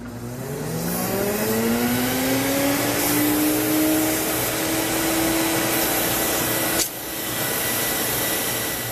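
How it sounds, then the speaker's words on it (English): A Sirena water-filter vacuum cleaner runs to dry its hose, its motor starting with a rising whine that settles into a loud, steady roar, broken by a brief dip near the end. "turn the machine on, and this will dry the hose for you"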